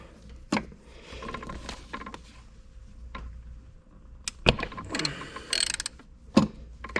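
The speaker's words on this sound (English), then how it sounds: "you kind of got to feed the whole wrench down in there" Ratchet wrench clicking on a bolt of a Mercury 75-115 HP outboard motor during a 300-hour service, heard as scattered bursts of close mechanical ratcheting with clanks and pauses between them.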